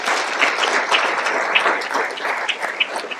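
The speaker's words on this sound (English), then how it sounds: "Can you help me give a big round of applause for the chamber and your staff?" An audience applauds a chamber of commerce and its staff at a morning event with a California state senator, a dense, even wash of many hands clapping at close range for a few seconds.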